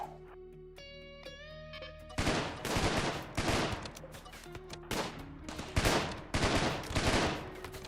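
Automated turrets in a colony-building game with gravships and mod additions, opening on sustained musical tones, then bursts of rapid gunfire rattling in repeated volleys, fairly loud and dense.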